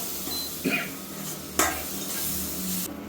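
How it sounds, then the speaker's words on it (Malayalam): Paneer shallow-frying in butter in a pan makes a soft, even sizzle, broken by two brief clinks of a utensil against the pan. "ഇട്ടിട്ട് നമ്മൾ അപ്പം തന്നെ പനീർ ഇടും. മിക്സ് ചെയ്താൽ മതി പെട്ടെന്ന്. അത് ശാലോ ഫ്രൈ ആണ്."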